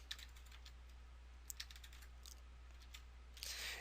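Computer keyboard keys tapped in short, scattered clicks while working in Excel 2013, faint and close, with a brief flurry of quicker typing near the end over a steady low hum.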